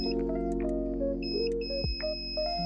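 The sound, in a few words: multimeter continuity test beep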